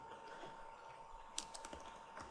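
Typing on a computer keyboard, a few separate key clicks in a short burst over steady room hum, near and fairly faint, with no voice.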